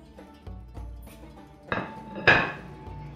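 A plate pulled out and handled in a home kitchen: a few soft knocks, then two sharper ceramic clinks and clatters close by, with no voices.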